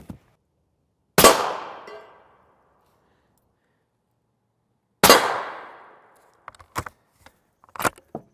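Shots strike a steel armor plate. Two loud, sharp metallic cracks land about four seconds apart, each ringing out and fading, followed by several fainter clanks and taps near the end.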